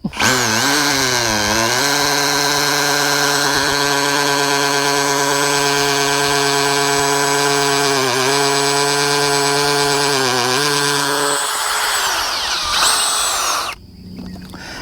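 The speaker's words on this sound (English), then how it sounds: "if you turn the drill the right direction, it'll go into the post" A loud power drill runs steadily for several seconds, its motor whine shifting slightly as the bit bores into a wooden fence post, then winds down and stops.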